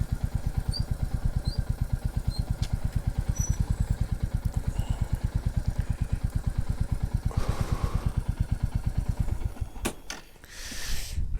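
A parked motorcycle idles steadily outside an RAF base café, its rapid even thumping pulse loud and close throughout, with a few brief clatters and a whooshing noise near the end.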